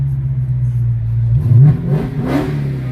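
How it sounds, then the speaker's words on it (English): A Dodge Hellcat's engine idles with a steady low rumble, then revs briefly twice, each surge rising and fading near and loud, with no talk over it. "So if I were to rev with the engine right now"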